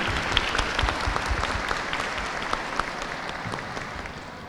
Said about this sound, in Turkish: annelere sonra da babalara bir büyük alkışla onlara